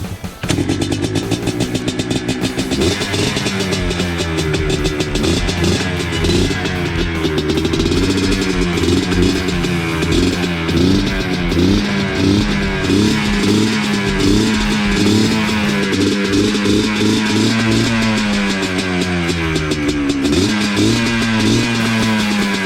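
Vintage ATV engine running close and loud after starting, a steady pulsing single-cylinder putter with slight revs and throttle changes throughout, no talk.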